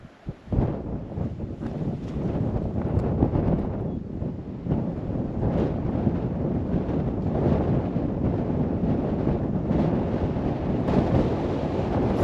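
Strong wind buffets the microphone on a high quarry ledge in Blue Mounds State Park, Minnesota, as a loud, continuous low roar with gusty swells and no talk.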